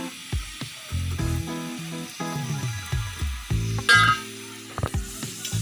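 Oil sizzles in a hot kadai while a spicy chicken capsicum gravy is cooked, with a steady frying hiss and repeated clinks and scrapes of a utensil against the pan.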